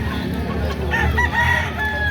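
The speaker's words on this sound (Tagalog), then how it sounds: "klase rin tong tangan ni Busing na manok" A rooster crows loudly and close by, one drawn-out call over a low background rumble.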